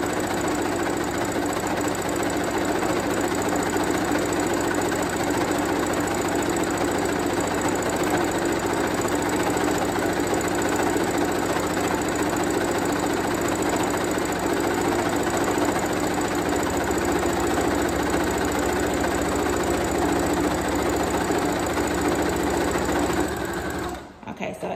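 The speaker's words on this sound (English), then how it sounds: "So I was sewing kind of fast because I'm used to doing this." Ruffle socks get a straight seam on a sewing machine, which runs fast and continuously at close range with a loud, even motor hum and needle rattle, then slows and stops right at the end.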